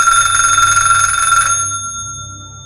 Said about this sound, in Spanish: Estábamos discutiendo cuando sonó mi celular.